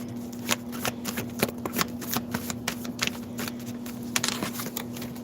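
Tarot cards are shuffled by hand in a quick, steady run of crisp flicks and riffles, close and clear, with a steady low hum behind them.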